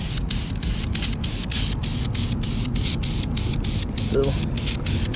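An aerosol spray can, held upside down, gives a continuous close hiss of spraying while the firewall area of a 1967 Pontiac Grand Prix is touched up, with someone talking over it.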